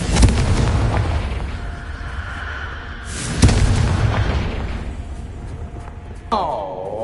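Confringo fire spell blasts in Hogwarts Legacy, a loud boom at the start, another sharp burst midway and a third near the end, over a continuous game soundscape with some voice.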